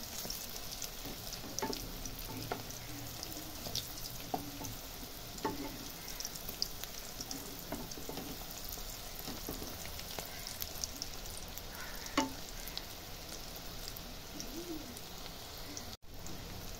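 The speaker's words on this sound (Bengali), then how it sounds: "এভাবেই আমি সব কোপ্তাগুলোকে ভেজে নেব" Quiet, continuous crackling of soybean koftas deep frying in oil, like a soft rain-like patter, with occasional light clicks and taps, steady throughout and no voices.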